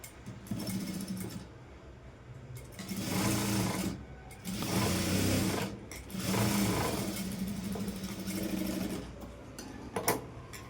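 Sewing machine stitching a cross-cut blouse after invisible piping is attached, running in several steady bursts of a few seconds each with short pauses between, close and clear with no talking.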